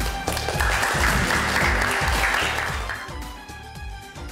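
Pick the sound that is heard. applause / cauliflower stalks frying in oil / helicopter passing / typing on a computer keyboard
applause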